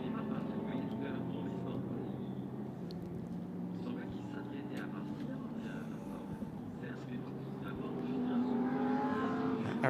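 GT3 race cars run on the Paul Ricard circuit, with a droning, rising engine whine in the background under steady commentary.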